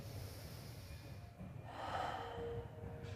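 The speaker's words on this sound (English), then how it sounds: "breathing in" A slow, deep inhalation through the nose, quiet and close, swelling in the latter half with no speech.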